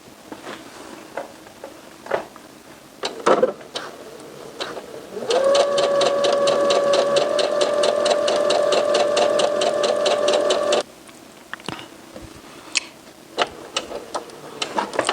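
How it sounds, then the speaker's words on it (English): A sewing machine stitches fabric along a traced line for cropped pants, running in one steady, close, rapid-ticking burst of about five seconds, with quiet handling taps and clicks before and after. "we're just going to sew right along that line that you traced onto your fabric"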